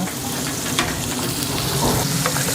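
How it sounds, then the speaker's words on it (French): Dry-aged beef sizzles hard in a pan of melted butter, a loud, dense, continuous crackle close up, with a couple of brief spoon or pan knocks and no voices. "On va y venir mettre bien du beurre, qui va nous permettre de nourrir notre viande pendant la cuisson."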